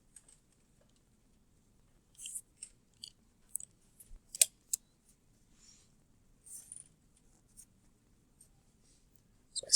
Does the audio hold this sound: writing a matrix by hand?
yes